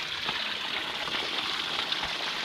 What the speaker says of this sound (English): It's just spraying water out of there